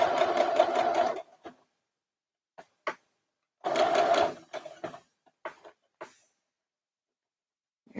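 A sewing machine stitches around the neckline of a little girl's dress in two short bursts, the second a brief reverse-and-forward run, with light clicks and handling in between.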